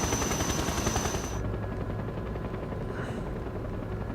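Helicopter rotors in the video game Metal Gear Solid 3 thump steadily, with a rapid, pulsing mechanical chatter. A high whine drops out partway through and the thumping continues with no speech.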